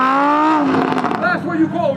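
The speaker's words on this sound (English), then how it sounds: "Lamborghini Huracan is actually Lamborghini's most successful sports car." A Lamborghini Huracan sports car runs on the Brands Hatch race track during a Ferrari and Lamborghini demonstration, its loud engine note rising and falling with revving, partly under a commentator's voice.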